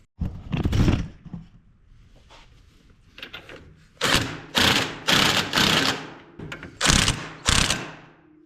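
An impact wrench with a 1-inch socket drives down a tie rod nut on a KRX 1000, firing several short, loud hammering bursts after a softer mechanical clunk and pause.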